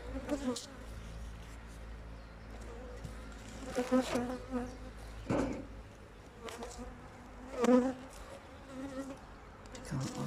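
Honeybees buzz around a hive box being opened on a March day in Sakarya, a steady close drone with individual bees swelling louder as they pass near, a few knocks and handling sounds between.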